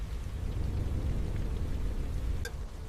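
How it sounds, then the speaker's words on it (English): Heavy rain pouring over open savanna grassland, a dense, steady rushing hiss with a deep low rumble, continuous and loud throughout with no voices. "The rain intensifies, soaking the herd and transforming familiar ground into slippery mud."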